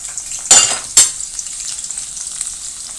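Curry leaves frying in oil for a kadhi tadka, two sharp bursts of crackling sizzle as they hit the pan, then a lighter continuous spatter, close and alone without talking.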